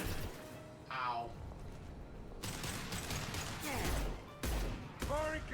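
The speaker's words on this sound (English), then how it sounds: "Firing concussive shot." A concussive shot goes off in the Mass Effect 2 video game amid combat, with several heavy blasts and thuds layered over battle noise, and game character voices talking in between.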